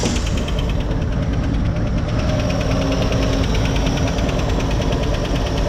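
An abandoned 1957 Chevy, back running after sitting 47 years, idles with a steady, loud, continuous rumble and a faint knocking rhythm throughout, close by and without talking.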